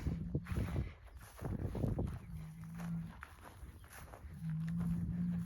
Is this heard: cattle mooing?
yes